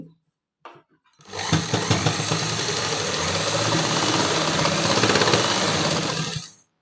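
A sewing machine runs steadily for about five seconds, stitching a straight fold along the hem of palazzo pants, a continuous close mechanical whir with fine rapid ticking, loud and alone after a few faint handling clicks.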